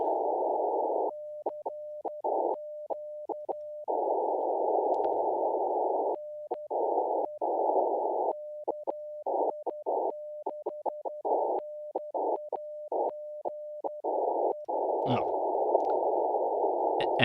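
CW Morse code tones beep in keyed dots and dashes of a steady pitch, sent over a hiss of radio static that cuts in and out with the keying.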